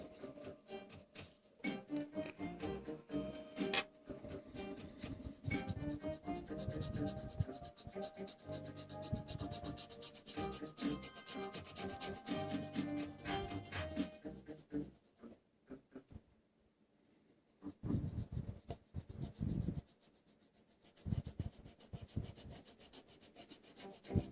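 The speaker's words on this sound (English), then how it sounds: "It's almost like I'm wet sanding it." Continuous rhythmic wet sanding by hand while cleaning a 1986 Nintendo Top Gun cartridge, rubbing and scraping strokes back and forth for a long stretch, pausing briefly before resuming.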